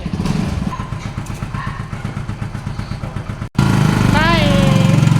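A motorcycle engine runs with a steady rhythmic chug, then after a brief cut it revs louder and closer with rising and falling pitch as it pulls away; a voice is heard faintly in the background.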